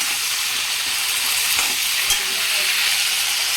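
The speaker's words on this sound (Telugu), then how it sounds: "మధ్య మధ్యలో ఇట్లా కలుపుకోవాలి, లేకపోతే ఇంకా అడుగు మాడిపోతాయి క్యాప్సికమ్ ముక్కలు." Capsicum curry frying in oil is stirred in a pan, a steady loud sizzle with a few scraping stirs of the spoon, no voices.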